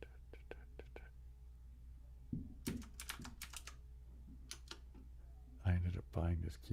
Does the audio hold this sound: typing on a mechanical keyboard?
yes